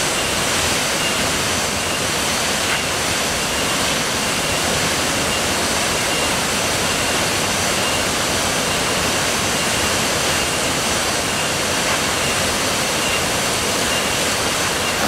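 A waterfall in Java tumbling onto leaf-covered rocks gives a dense, unbroken roar of falling water, loud and steady throughout with no voices.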